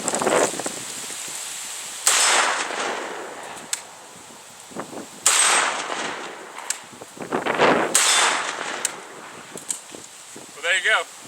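A Zastava M85 PAP 5.56x45 AK pistol fired outdoors, several sharp loud reports spaced a few seconds apart, each with a trailing echo, against a windy background and a few brief voices.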